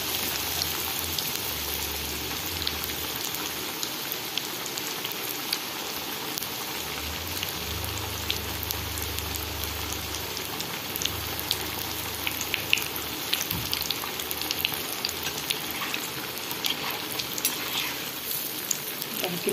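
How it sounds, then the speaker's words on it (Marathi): Batata vada balls sizzle and crackle steadily in a generous pan of hot oil, a continuous close frying hiss with small pops throughout. "तेल थोडं जास्त घेतलंय, 2 वडे टाकते।"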